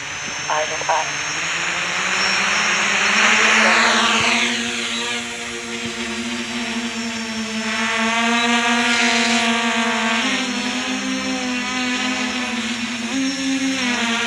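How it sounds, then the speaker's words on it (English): Small FPV quadcopter on 355 arms with 8-inch propellers and a 4S battery, flying outdoors: a steady high buzzing whine that rises and falls in pitch as it throttles, with a person talking over it. "This is the little Armitan FPV quad. I've put the 355 arms back on and 8-inch propellers"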